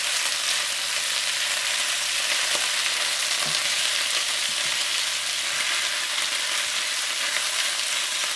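Pork belly pieces fry in a pan, a steady, dense crackling sizzle of hot fat that holds at an even level throughout, with a few faint clinks of stirring and no voices.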